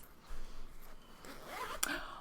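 A zipper on a handmade cross-stitch bag is pulled open in quick, close raspy strokes, quiet and brief, ending in a small click.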